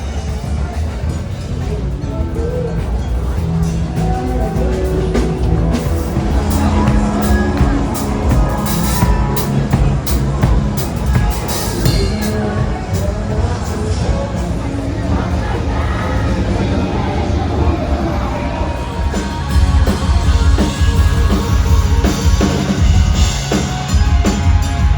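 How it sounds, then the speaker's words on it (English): Busy nighttime street noise on Broadway in Nashville, with honky-tonk bars nearby: a steady, loud wash of crowd chatter, distant music and passing traffic, with voices throughout. "We made it to Broadway Street, as you can tell, in Nashville, and it's just crazy. It's loud, people everywhere, honky tonks,"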